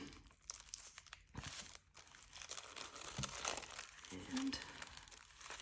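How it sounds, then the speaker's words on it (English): A sheet of paper is accordion folded by hand, with close, quiet crinkling and creasing rustles coming in irregular bursts, and a voice is heard faintly at moments. "we're going to accordion fold this paper is how I understand it"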